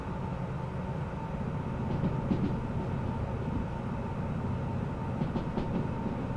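A heavy 2,000-tonne freight train rolls at night in Derail Valley, braking down a slope with a steady low rumble, muted wheel clatter and faint metallic squeals, close and continuous.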